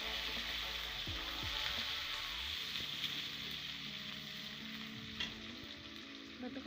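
Garlic and onion fry in a pan for mutton kosha, a continuous, fairly quiet sizzle with a few stirring scrapes early on and a faint clink near the end.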